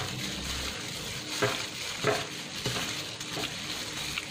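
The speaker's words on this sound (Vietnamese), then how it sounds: "Bây giờ mình sẽ trộn đều lên." Marinated beef being mixed with sesame seeds for a beef and bitter melon dish, a close, soft, wet stirring and shuffling with a few slightly louder strokes, no talking.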